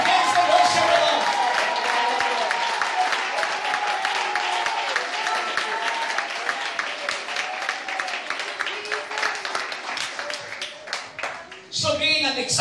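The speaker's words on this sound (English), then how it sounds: "we have some time to clap our hands and worship with us" A church congregation claps hands in worship during a service, rhythmic, even clapping from many people that gradually thins and turns sparse, with a pastor's voice over it before the clapping ends.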